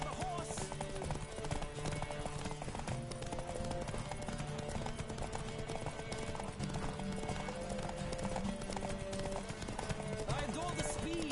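Horse hooves clip-clop at a steady trot in The Witcher 3, with the rhythm running continuously beneath a busy layer of game music and ambience and occasional voices.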